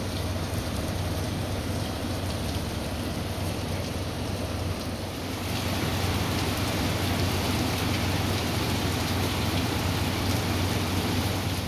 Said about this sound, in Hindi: बारिश हो रही है, मैं आपको दिखाती हूँ।